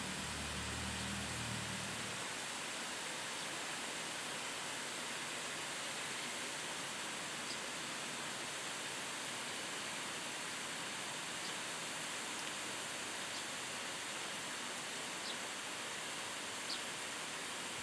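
Garden water shower spraying in a Thai garden where birds come to bathe, a steady broad hiss of falling water running throughout, with a lower rumble at the start and faint chirps above.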